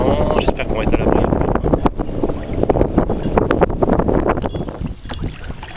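Wind buffeting the microphone while sea kayaking on open water, a loud continuous rumbling rush with irregular gusty thumps, with people talking over it.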